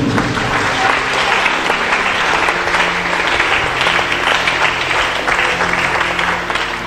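A church congregation at a Sunday service claps loudly and steadily for the whole stretch, a dense wall of applause with a faint crowd murmur mixed in.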